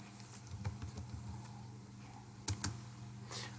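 Keys clatter on a computer keyboard as a table name is typed, a run of close, light clicks with a couple of firmer strokes near the end.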